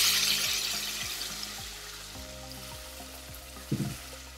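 Fish pieces hitting hot oil in a pan while making mater paneer masala, a steady close sizzle and crackle with a sharper burst of frying near the end.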